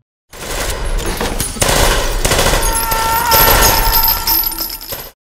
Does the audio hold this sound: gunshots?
yes